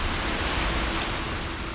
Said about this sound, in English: that sound you are listening to at the moment is rain. Rain. Lots of rain.